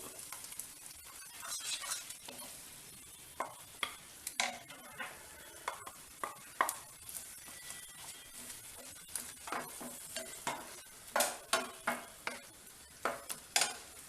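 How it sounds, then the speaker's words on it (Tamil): Ground masala paste frying in oil with salt for an egg curry, a quiet background sizzle punctuated by repeated sharp scraping and clinking stirs of a utensil against the pan, close and irregular, with no speech. "கொஞ்சம் நல்லா அந்த எண்ணெயிலே கொஞ்சம் வதங்கட்டும்"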